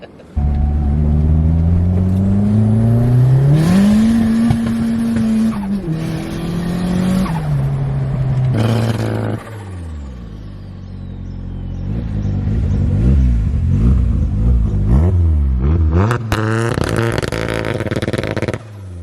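A tuned turbocharged Nissan Pulsar SSS N14 with an SR20DET engine revs hard through rising and falling gears, with a turbo whine and sharp pops between shifts, loud and close.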